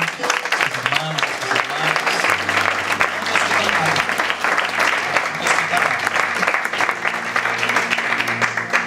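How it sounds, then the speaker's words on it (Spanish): A church congregation applauds in a sustained, steady burst of dense clapping that lasts the whole stretch. A few voices mingle faintly in the crowd. "quero dar um forte aplauso ao Senhor Jesus por toda esta gente"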